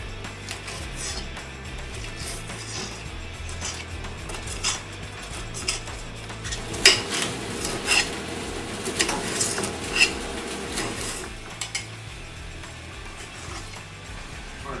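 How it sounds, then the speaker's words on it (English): A knife chopping peppers on a cutting board while cooking: a steady run of light, irregular taps and clicks, busier and sharper in the middle stretch, against a faint background hum. "Now we're going to chop our peppers."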